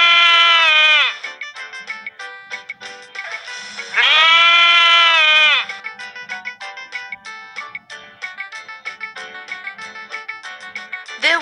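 Two goats bleat in long, wavering, nasal cries, loud and close, one near the start and another midway, with bright, rapid, tinkling music-like pulses filling the gaps between them.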